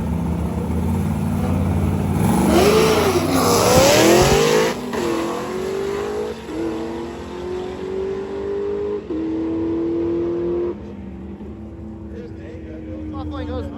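A turbocharged LS-powered Jeep Cherokee XJ launches at a drag strip, its engine roaring loud and close and rising through gear changes before the sound fades into the distance.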